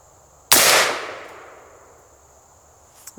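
A single sharp gunshot from a firearm fitted with an Osight red dot, aimed at a can, cracks loudly and close, then decays into a long fading echo.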